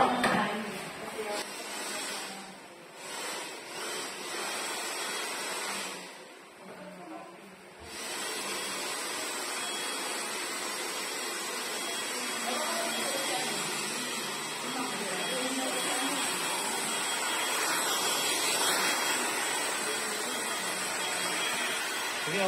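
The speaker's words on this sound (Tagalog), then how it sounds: "Blower mo siya, Brad, para mawala yung buhok sa ano." A handheld hair dryer blows cut hair off someone after a haircut at home, a steady loud whooshing hiss that drops out briefly early on, then runs continuously.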